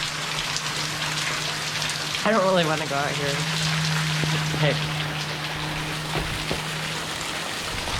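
Heavy rainstorm pouring outside a house in Washington, with gutters overflowing and leaking; dense, steady hiss of rain hitting surfaces throughout, close and loud, while a person talks briefly partway through.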